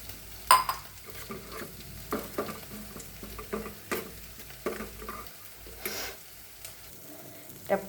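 A spoon works through thick batter for stuffed pointed gourd fritters with soft, wet, irregular stirring strokes and occasional light knocks against the bowl. The sound is close and quiet, with no talking.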